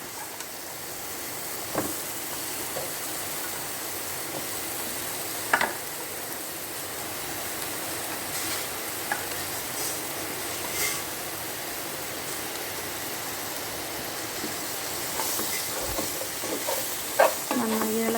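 Ivy gourd and potato pieces sizzle steadily in hot oil with toasted spice powders as they are stir-fried, a continuous close hiss with occasional sharp clicks of a spoon against the pan.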